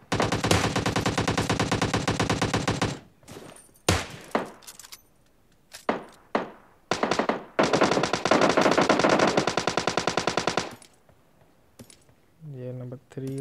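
Machine gun fire in PUBG Mobile Lite, rapid sustained bursts loud and close, broken by single sharp shots and brief gaps, with a second long burst before a short tonal game sound at the end.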